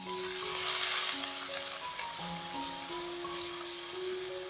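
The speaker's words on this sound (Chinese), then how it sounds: "大概加半碗水。" Water poured into a hot wok over chili powder fried in oil, for spicy rice tofu, gives a steady close sizzle and hiss under tonal background music.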